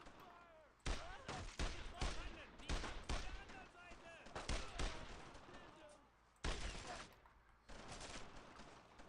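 Video game shooter gunfire crackles in repeated rapid bursts of rifle fire, loud and punchy with short gaps between volleys, with some voice underneath.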